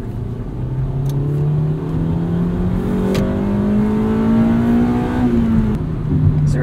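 A 1999 Honda Civic Si engine revs up through VTEC, a close, rising whine that climbs steadily in pitch, heard from inside the car with some road noise.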